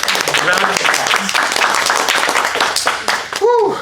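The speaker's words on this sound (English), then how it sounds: "Round of applause." An audience claps in dense, steady applause that fills the short stretch, loud and close, with a voice briefly breaking through at the end.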